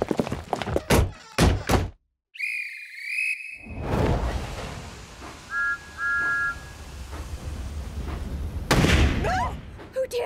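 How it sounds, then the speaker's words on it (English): Railway fog detonators go off in an animated train show: several sharp, loud bangs in quick succession, then steam whistles and engine noise, with characters talking. "It's only the fog detonators."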